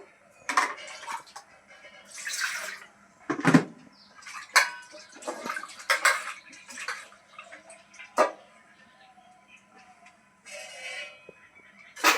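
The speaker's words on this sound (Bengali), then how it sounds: "জলটা ভরে নিই কারণ টাইম কলে তো আবার জল চলে যায় তাড়াতাড়ি সেই জন্য জলগুলো ভরতে বসে পড়েছি" Containers being filled with water from a timed household tap, with running and splashing bursts broken by clanks of metal vessels and pots being set down and shifted, close by and irregular.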